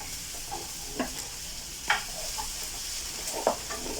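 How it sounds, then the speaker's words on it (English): Onions caramelize in a breakfast frying pan, with a soft continuous sizzle and occasional spatula scrapes and clicks spaced a second or so apart. No one speaks. "So my onions are just caramelizing"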